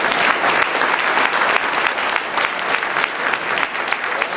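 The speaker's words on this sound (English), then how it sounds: "If I get a round of applause for Peter and for Dan." An audience at a debate applauds the two debaters, a dense, steady wash of clapping from many hands that stays loud and even throughout, with no distinct voices.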